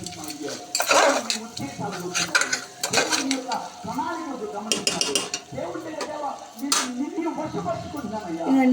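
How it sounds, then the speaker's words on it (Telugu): Spoon scraping and stirring chili powder into an egg curry in a pan over gentle sizzling oil, with irregular metallic clinks and scrapes while someone talks throughout. "ఒక్క స్పూన్ కారం వేసుకుంటున్నానండి మిక్స్ చేయండి"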